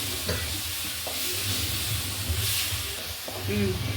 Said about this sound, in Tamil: தக்காளி போட்டுட்டு நல்லா வதக்கணும்